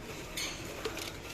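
A two-piece set of dishwasher-safe salad servers handled in a supermarket aisle, giving a couple of light, brief clinks against a low store background hum.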